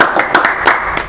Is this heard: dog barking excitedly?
no